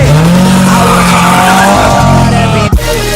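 An Aprilia RS V4 motorcycle at an outdoor car show is revved hard, a loud, close, sustained engine howl with a steady tone that breaks off briefly near the end.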